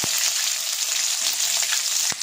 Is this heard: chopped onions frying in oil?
yes